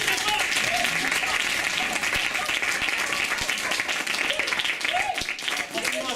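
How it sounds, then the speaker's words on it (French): A crowd applauds loudly after an improv comedy act, dense continuous clapping filling the room with some cheering voices mixed in. "on les applaudit très fort"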